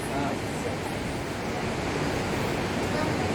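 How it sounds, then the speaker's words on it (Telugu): The Alaknanda river rushes steadily at the Karnaprayag confluence, where the Karnaganga (Pindar) joins it: a continuous, close, broadband roar of flowing water with no pauses. "ఇక్కడ ఇటు నుంచి అలకనంద వెళ్తున్నది, అటు నుంచి కర్ణగంగా వస్తున్నది."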